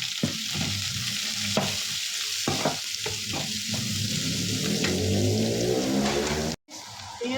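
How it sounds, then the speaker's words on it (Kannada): Onions fry in a pan with a loud, constant sizzle and crackle, broken by several spatula strokes, close up and with no talking. "ಈರುಳ್ಳಿ ಈ ಥರ ಫ್ರೈ ಮಾಡಬೇಕು"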